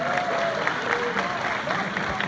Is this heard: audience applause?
yes